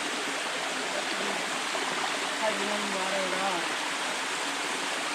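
Steady broadband rush of a stream crossing a hiking trail on the Bruce Trail, continuous and fairly loud, with faint voices murmuring underneath.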